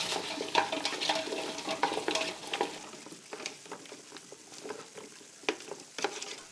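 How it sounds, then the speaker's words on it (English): Chestnuts, garlic, onions and pureed tomato sauce being stirred in a pot: soft, fairly quiet wet scraping and clicking with an irregular rhythm, gentler toward the end. "Give it a good mix."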